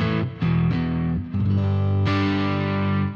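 Distorted electric guitar run through a Boss GT-1000 with stacked amp models, a modded amp on the second channel, playing sustained crunchy chords that re-strike a few times and ring loud and close with no talking.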